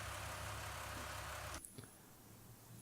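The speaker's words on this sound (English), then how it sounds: "I'm so lazy, I gotta drive the tractor up here." A tractor engine in Farming Simulator 19 runs with a steady, loud drone that cuts off sharply about halfway through, leaving quieter low rumble and a faint clunk afterward.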